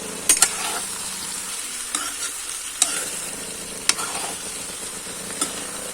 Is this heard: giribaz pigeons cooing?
no